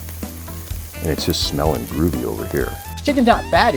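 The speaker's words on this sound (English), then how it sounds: "You listening to that sizzle?" Steady crackling sizzle of skin-on chicken on a hot grill, running beneath someone talking close by.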